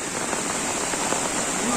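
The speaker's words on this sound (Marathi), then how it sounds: "पाऊस लय पडतोय" Heavy rain pours down on open fields in a constant, roaring hiss, with a voice faintly audible beneath it.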